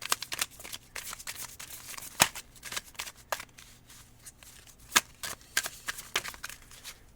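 Tarot cards being shuffled by hand during a reading: a steady run of soft, papery riffles and flicks with a few sharper slaps, close and fairly quiet, with no voices.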